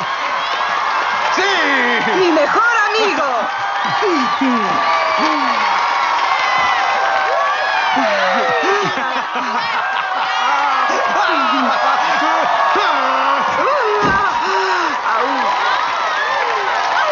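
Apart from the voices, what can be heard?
studio audience applause and cheering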